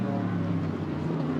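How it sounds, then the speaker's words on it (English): A GT America race car circles the COTA circuit on its own, its engine giving a steady, loud, droning hum with a low rumble and no gaps across the short stretch. "Here's the car running by its lonesome. Let's listen."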